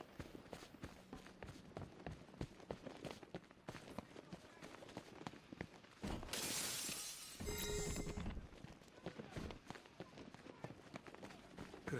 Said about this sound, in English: Could have sworn I heard broken glass